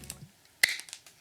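Scissors snipping wool yarn for a mandala, a single sharp close snip followed by a few faint small clicks in an otherwise quiet room.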